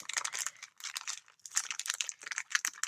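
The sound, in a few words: crinkling plastic paper packaging being opened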